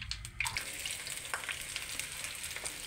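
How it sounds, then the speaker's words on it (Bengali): Cauliflower pakoras deep-frying in hot oil give a steady close sizzle, with scattered crackles and pops throughout and no talk. "এরকম করে সবগুলো ভেজে নিই।"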